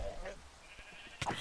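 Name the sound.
sheep bleating in a video game (Minecraft)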